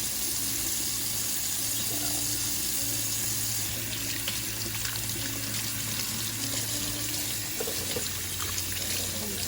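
Running tap water pours steadily into a sink as a sponge from a pet water fountain is rinsed, a constant close splashing hiss with a low hum underneath.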